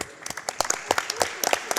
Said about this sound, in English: Can we have a round of applause for the tech team real quick?